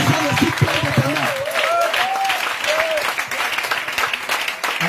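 A church congregation claps and cheers loudly in acclaim of Jesus at a revival service, with voices calling out over the dense applause.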